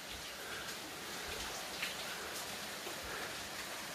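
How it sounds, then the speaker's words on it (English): Steady, faint rushing of a stream, a continuous watery hiss with no voices, heard from some distance below a walking trail in Grand Canyon, Blue Mountains, Australia. "you can hear the running water again"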